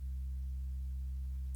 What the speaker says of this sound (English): what this is, it's literally just a sine wave